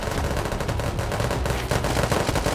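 Rapid automatic gunfire in the survival game Unturned pelts the player, a dense, continuous burst of loud shots with no gaps across the whole span.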